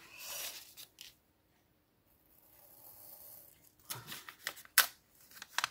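Pen-shaped cutter slicing a sheet of paper, quiet scraping and rasping strokes in short bursts with gaps of near silence, no talking.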